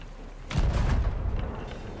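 Cannon fire aboard a ship in the pirate video game Sea of Thieves: a single deep, booming shot with a low rumbling tail, loud and close, no talking over it.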